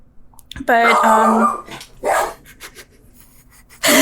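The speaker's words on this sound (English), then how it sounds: "that was my dog Olive. She's upset that another dog exists." A dog gives one loud, drawn-out howling bark up close, followed by a shorter yelp and another bark starting at the end.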